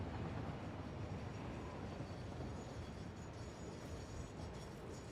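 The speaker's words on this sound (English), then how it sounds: "I hear the train." Train in a factory-building video game, a faint steady rumble that holds for the whole stretch with no talk.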